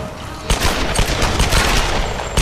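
Gunfire in the Tomb Raider video game: a loud burst of rapid shots kicks in abruptly and continues as a dense, crackling volley with repeated sharp reports, close and with no talking over it.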